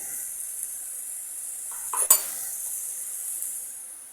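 Shrimp drop into a hot pan for a Bengali shrimp bhuna, a brief clatter and burst of sizzle before the steady hiss of frying continues alone.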